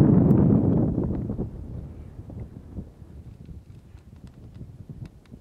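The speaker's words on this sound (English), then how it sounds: "The wind's starting to pick up" Wind gusting across a bare, dry lake bed near Panamint Dunes, a loud buffeting rush that fades into fainter, uneven gusts and light rustling, no voices.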